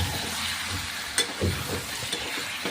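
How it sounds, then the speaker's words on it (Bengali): Goat meat curry cooking down on low heat gives a soft, close sizzle with a few scraping stirs and one brief clink, with no voice. "এবার হলো কষানো এখনো পুরাটা হয়নি, আরও ধরো 10 মিনিটের মতো কষাতে হবে।"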